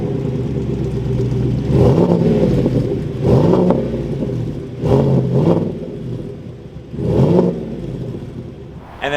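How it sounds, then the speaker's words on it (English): A 2021 Chevrolet Silverado Badlander's V8 with dual exhaust and custom powder-coated tips idles with a low rumble, then revs up four times in short, loud bursts that fall back to idle between blips. "Let's take a quick listen to this 8-cylinder engine."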